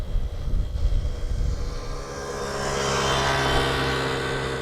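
A large aircraft passes beside the Polderbaan runway at Schiphol Airport on a windy day, its engine roar swelling into a loud, steady rushing drone over low rumble.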